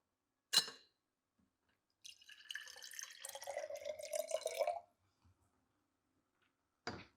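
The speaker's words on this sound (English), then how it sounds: "Yes, very technical pouring technique here." A drink is poured into glasses in a quiet room: a sharp glass clink, then about three seconds of trickling, gurgling liquid that deepens as the glass fills, followed by another clink.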